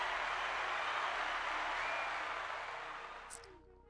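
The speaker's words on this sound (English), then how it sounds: "round of applause from the live studio audience" Live studio audience on a fishing talk show breaking into sustained applause, dense and even, then tapering off toward the end.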